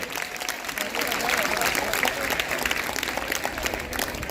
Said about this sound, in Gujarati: એટલે બહેનો માટે જોરદાર તાળીઓ વધારો પાયો.